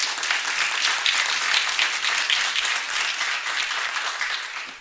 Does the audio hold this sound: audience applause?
yes